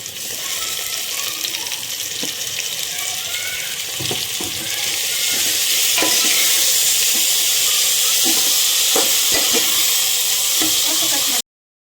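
Masala frying in a pan as tomatoes go in for aloo biryani, a steady loud sizzle with scattered stirring clicks and scrapes, growing a little louder midway, with no voices.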